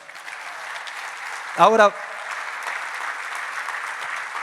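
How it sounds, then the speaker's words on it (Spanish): A church congregation claps steadily in sustained applause during a Christian service, with one voice speaking briefly over the clapping. "Dale el mejor aplauso a Él."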